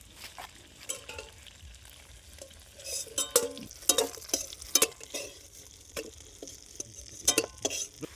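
Prawns fry in a pan for a daab chingri dish, giving a faint crackle up close with repeated sharp clinks and scrapes of stirring, and no voices.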